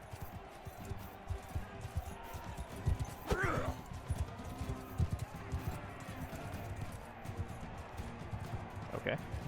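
Horse hooves clip-clop steadily across a medieval battle game in Mount & Blade II: Bannerlord, with a short whinny partway through and dense game noise around them.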